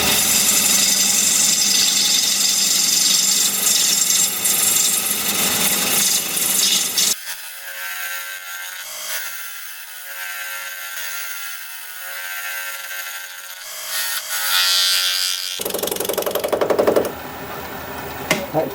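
Wood turning tool being sharpened on a grinder: a loud continuous abrasive grinding hiss, briefly dropping to a quieter whir in the middle before the harsh rasping returns.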